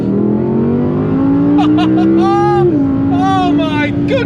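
An Audi R8 V10 5.2 litre engine producing 533 brake horsepower revs loudly up and settles back, its pitch climbing steadily before dropping, with a deep continuous roar close to the listener.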